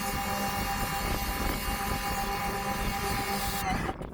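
A Muc-Off battery-powered pressure washer sprays a motorcycle with a loud, steady motor whine and water hiss that holds evenly, then cuts off abruptly near the end.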